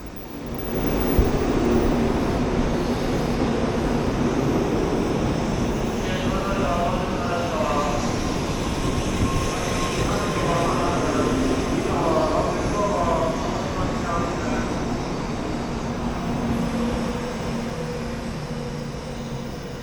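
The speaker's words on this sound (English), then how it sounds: "our 849 service pulls in from Osaka right on time" An N700 series Shinkansen high-speed train, the 849 service from Osaka, pulls into a Japanese station with a steady rumble and whine from the rails, a sustained low roar that holds throughout, with voices talking faintly over it.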